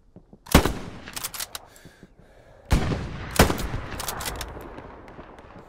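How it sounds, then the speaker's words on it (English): Grease gun submachine gun firing in the Hell Let Loose video game: two loud, sharp bursts of rapid automatic fire about three seconds apart, each followed by a rattling, echoing tail, close and dominant with no talking. "this grease gun just started randomly shooting"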